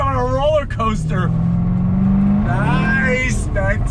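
A 2017 Jaguar F-Type SVR's V8 engine revs hard under throttle, its tone climbing and holding close and loud while excited voices talk over it.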